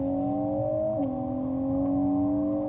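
An ORA 07 sport coupe plays a simulated race car engine note through its cabin speakers: a steady synthetic drone with one pitch dip midway, heard alone at moderate level.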